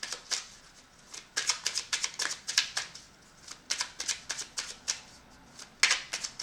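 Tarot cards being shuffled and drawn during a reading, a quick run of crisp riffling snaps and slaps in bursts, close and fairly quiet, with no talking.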